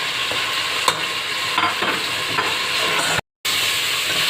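Chopped medium onions, cut in large pieces, go into a pan for chicken shami kabab, giving a steady close sizzle and stirring scrape with a few sharp clatters and a brief dropout near the end.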